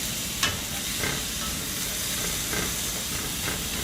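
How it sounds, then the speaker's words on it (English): Garlic sautéing in a pan for collard greens, giving a loud, steady close sizzle with a few faint utensil scrapes, and no talk. "That's the sound we like to hear,"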